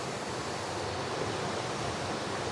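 A forest river flows in a steady, dense rush of water, close and continuous, with no voices.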